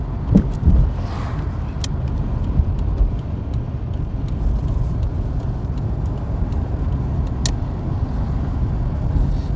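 A Ford car drives along a road, giving a steady, loud rumble of engine and road noise with a faint tick or two on top and no voice.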